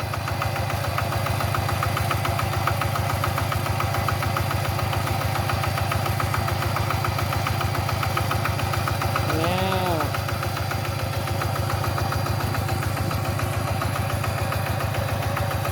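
A farm vehicle engine idles while a rice field is prepared for sowing, giving a loud, steady, close-up throbbing rumble that runs without a break.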